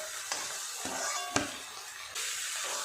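Giant prawns frying in oil: a dense, close sizzle and hiss with a few sharp pops and spatters, rising slightly in the final moment, no voices.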